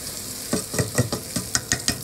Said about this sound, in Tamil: இப்போ இந்த தாளித்ததை நம்ம இந்த குழம்புல கொட்டிடலாம்